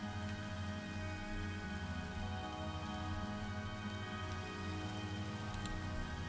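Rain in modded Minecraft, a steady continuous patter of raindrops with a low tonal background hum and no talking.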